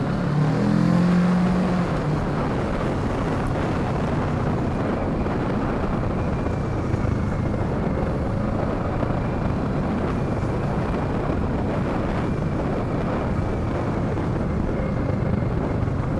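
A Kawasaki Z650 motorcycle accelerates on the road, its engine climbing past about four thousand rpm. A steady, loud engine roar runs throughout, mixed with constant wind rush.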